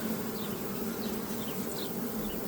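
Honey bees buzzing around a beehive box, a steady close drone with a few individual bees whining past, and no voices.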